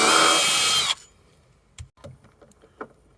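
A loud, steady power drill whirs for about a second drilling a 3mm hole into a VW Transporter van's metal body, then cuts off, followed by a few quiet clicks and knocks.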